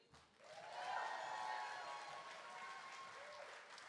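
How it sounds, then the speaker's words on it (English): Sustained audience applause at a live evening performance at Leisureland in Salthill, Galway, a dense steady clapping swell that rises quickly and holds at full volume, with a few faint voices mixed in. "Can we please give another round of applause for Molly?"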